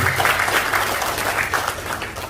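A seminar audience claps steadily for a company in a short, fairly close burst of mixed hand claps with no voices over it.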